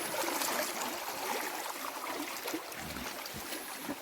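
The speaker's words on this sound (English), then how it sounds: "So let's just empty this water out." Water pours out of a gold pan into a stream at a Cornwall panning spot, a steady splashing rush that is loud at first and then settles to a continuous trickle and gurgle.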